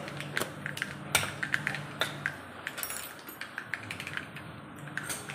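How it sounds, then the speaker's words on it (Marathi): Mustard seeds crackling and popping in hot oil with cumin, asafoetida and turmeric, a quick scatter of sharp close ticks and pops over a low steady background. "मोहरी छान तडतडते."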